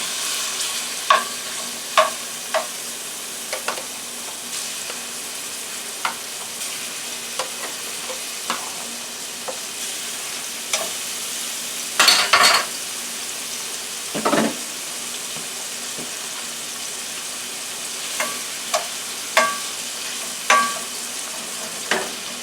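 Onions and shrimp sizzle steadily in a pan for shrimp fried rice, broken by scattered scrapes and clanks of stirring, with a louder burst of stirring partway through and no talking.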